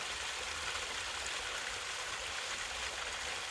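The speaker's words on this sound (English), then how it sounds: "So now you see the other side of the waterfall." A small waterfall pours steadily, a close, continuous hiss of rushing water with no breaks and no voices over it.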